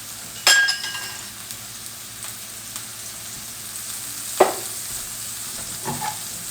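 Meat frying in melted tallow in a pan, a soft steady sizzle punctuated by a sharp clink of a utensil and a couple of brief scraping stirs.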